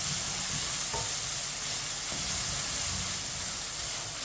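Chopped tomatoes and green chillies cook in a pan with a soft continuous sizzle and hiss, while a spoon scrapes and stirs in occasional quiet strokes; no voices.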